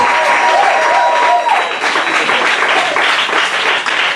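A congregation at a women's prayer gathering applauds to welcome someone speaker to the pulpit. Loud, dense clapping from a sizable crowd runs steadily throughout, with faint voices mixed in.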